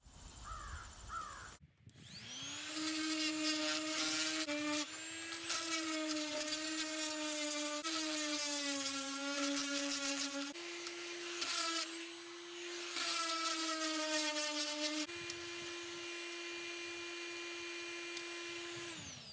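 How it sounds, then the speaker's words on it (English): A power sander whines steadily on a wooden guitar amplifier faceplate, cutting in and out over several long passes with brief pauses between them. "Like I said, first step, sanding."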